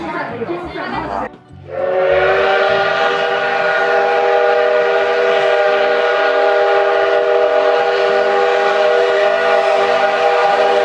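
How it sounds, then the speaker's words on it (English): An old train passes nearby, a loud, sustained rumble with steady tonal whistle-like harmonics after a brief quieter moment with some chatter at the start. "That's an old train."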